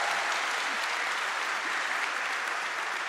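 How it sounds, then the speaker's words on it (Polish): An audience at a regional government anniversary awards ceremony claps steadily. The applause is dense and sustained, filling the hall with no break. "Prosimy o brawa."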